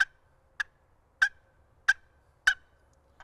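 A handheld turkey call sounds five crisp, evenly spaced notes, yelps ending in a cluck, sharp and close against near silence, like a hunter imitating a wild turkey.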